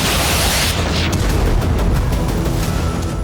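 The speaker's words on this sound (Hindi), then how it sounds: "कुर्स्क पर भारी बमबारी की जा रही है" Continuous heavy rumbling and booming from bombardment of Kursk, loud and dense throughout, with no talk.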